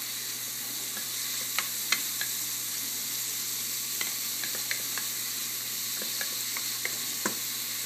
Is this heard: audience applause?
no